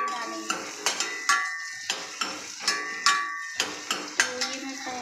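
Onions browning in a pan for a lentil lunch dish, with a faint sizzle beneath a run of repeated metallic clinks and scrapes from a spoon against the pan, close and fairly loud, with no talk.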